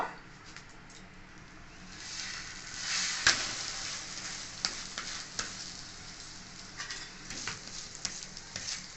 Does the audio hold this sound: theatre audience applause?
no